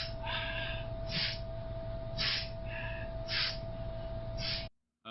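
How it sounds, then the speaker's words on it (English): Forceful, rhythmic exhalations of breath in a sword-work practice session, about five sharp bursts spaced roughly a second apart, close and loud over a steady low hum. "The breathing is an exhalation of breath outwards to create tension in the gut."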